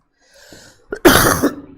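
A faint breath, then a sharp, harsh cough from a man with a viral illness bursts out close by, loud and brief.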